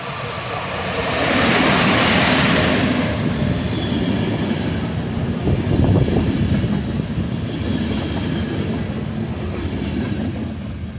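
A train rolls past on a railway track that has just reopened after an hour's closure for trackwork, its wheels clattering loud and steady throughout with some rising squeal, continuous rumble for the whole stretch.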